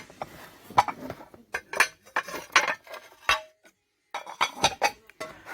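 Ceramic salad plates from a three-piece set clink and knock together as they are handled in a store. Sharp irregular chinks and clatters come close and clear, with a brief pause in the middle and no talking.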